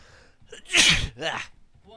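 A single loud sneeze, close by, with a sharp intake of breath leading into the burst and a short voiced tail after it.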